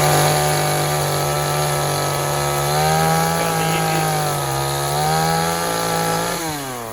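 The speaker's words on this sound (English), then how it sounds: "getting comfortable using the chainsaw here" A chainsaw runs steadily while felling medium dogwood trees, its loud engine drone holding a sustained pitch that rises and dips slightly as it cuts, then winds down near the end.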